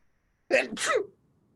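A single close sneeze, a sharp two-part burst with a quick intake and explosive release, then silence.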